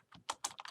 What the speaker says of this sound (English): I will type in everything we need.